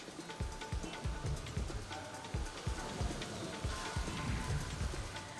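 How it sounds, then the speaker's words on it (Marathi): Unseasonal evening rain comes down in New Delhi, a steady wash of patter with repeated sharper drops and splashes at a moderate, even level. "नवी दिल्लीतही अवकाळी पाऊस कोसळला"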